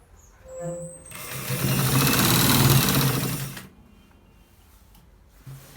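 A sewing machine stitches the lower part of a shirt collar in one loud, steady run of about two and a half seconds, bracketed by quieter handling noise before and after.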